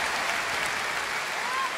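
Steady applause from a concert audience at New Wave Sochi 2018, a dense wash of clapping filling the whole moment at an even, sustained level.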